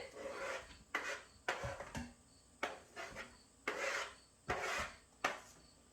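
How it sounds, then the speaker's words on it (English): Several short scraping and rubbing sounds in an irregular rhythm as finely chopped onions are pushed and scraped off a board into a pan, close up with no talking. "I'm just gonna pick it up and dump my onions in."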